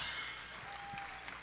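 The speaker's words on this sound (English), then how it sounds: "Clap for those guys." Audience applause at an entrepreneurship conference, a steady wash of clapping filling the whole moment at moderate level with some voices mixed in.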